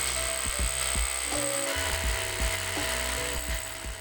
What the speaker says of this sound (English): Drilling for these anchors requires a hammer drill and a 3/4 inch bit